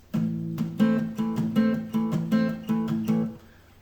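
Rapid, choppy acoustic-style guitar strumming with palm-muted down strokes, a steady chugging rhythm of short damped chords played close and fairly loud.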